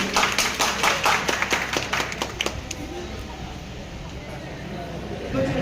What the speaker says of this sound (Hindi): एक बार फिर से जोरदार तालियां हो जाए सभी के लिए।